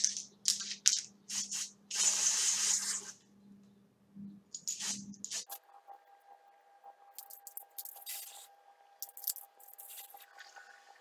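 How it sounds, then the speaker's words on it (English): Color spray misted onto a wig weft in several short, hissing bursts, one longer spray among them, followed by quieter handling and faint squishing sounds, close and soft. "Spray a little bit under there."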